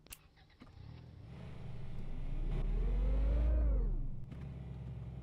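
A Toyota Hilux pickup's engine in the game Denizen, parked outside a casino, revs up from idle, its pitch climbing steadily to a loud peak before dropping back to a rumbling idle; no voices.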